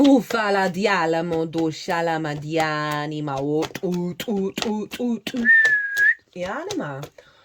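A person whistles a short bright tone amid ongoing speech, one brief steady whistled note standing out clearly over the talking voices.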